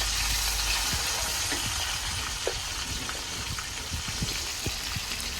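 Garlic, dried chillies and mustard seeds fry in a pan with a steady, soft sizzle, scattered little pops and crackles spitting through it, heard close and quiet with no voices.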